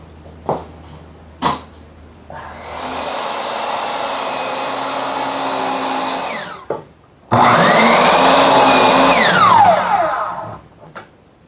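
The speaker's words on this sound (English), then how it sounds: "Let's cut some stuff." A Kobalt miter saw with a newly replaced blade spins up and cuts, giving a steady loud whine that runs for a few seconds, then a second louder cut after a short gap, with a couple of clicks before and after.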